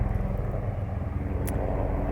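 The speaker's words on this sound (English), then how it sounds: "Some helicopters overhead getting pretty loud." Helicopters flying overhead above a garden make a loud, steady rotor rumble that fills the whole moment without a break, with no voices.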